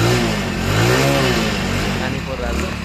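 A Hero Honda motorcycle riding in the rain, its mid-pitched engine revving loud and close with a rising and falling drone that holds steady for a few seconds.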